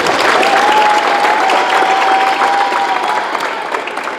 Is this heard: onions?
no